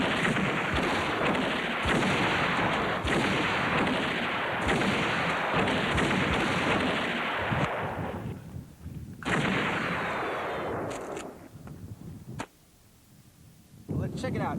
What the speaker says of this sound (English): Safety's off, and it's a drive-by shooting